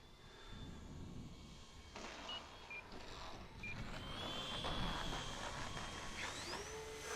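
A Twin Timber 1.6m twin-engine RC plane rolls along the runway for takeoff, its electric motors whining steadily and rising in pitch as the throttle comes up, with broadband wheel and wind noise building over the roll.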